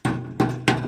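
A hanging tin can bird scarer on a hill-forest farm knocks three times in the wind, each a sharp hollow metallic clack that rings out briefly, spaced roughly evenly and heard alone at close range.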